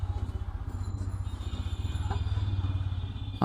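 A TVS motorcycle ridden on a road at night, its engine thrumming in a steady low pulsing rumble with faint rattles and wind noise, no voices.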